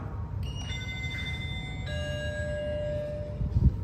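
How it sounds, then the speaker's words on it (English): A 2007 Schindler 5400 AP traction lift gives a soft electronic arrival chime, a few clear bell-like tones layered over quiet hum, followed by a brief low thump near the end. "Listen to that chime."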